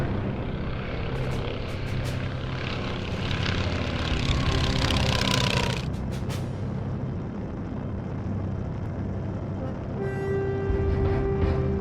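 Propeller airplane at an old field-runway aerodrome in New York, a loud, steady engine drone with a rough propeller buzz that swells in the middle and holds close throughout.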